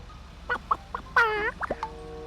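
A person's voice imitates a hen clucking, giving a few short clucks followed by a longer drawn-out call and a couple of quick notes. It sounds close and fairly loud against a quiet background.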